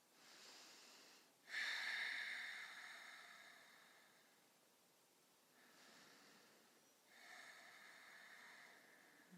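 Slow, deep breaths during a yoga power flow, each long airy inhale or exhale separated by quiet pauses, soft and close with no voices.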